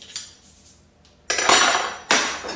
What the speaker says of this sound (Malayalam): ഞാൻ പിന്നെ പാത്രം കഴുകുന്ന രീതി എന്ന് പറഞ്ഞാൽ സോപ്പ് ഇട്ടെല്ലാം വെക്കും, എന്നിട്ടാണ് വീണ്ടും എല്ലാം ഒന്നുകൂടെ കഴുകുന്നത്